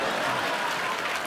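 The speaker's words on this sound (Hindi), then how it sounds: "जोरदार तालियां" A TV comedy show's studio audience applauds, a dense, steady wash of clapping and crowd noise that stays loud and even for its whole brief length, with no talk over it.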